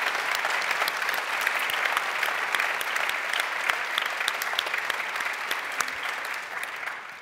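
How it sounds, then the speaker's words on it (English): A crowd applauds after a panel event on news and trust, with dense, sustained clapping that holds steady throughout and eases off slightly at the very end. "Let's give them a round of applause"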